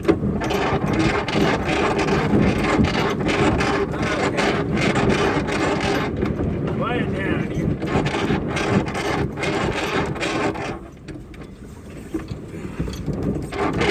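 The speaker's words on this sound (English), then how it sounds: "You may notice a little sound with winches and winches" Sailboat winches that need grease, ratcheting while the boat tacks and close-reaches to windward: rapid repeated mechanical clicks over a wash of wind and water, with a voice speaking briefly.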